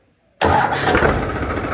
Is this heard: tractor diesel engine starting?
yes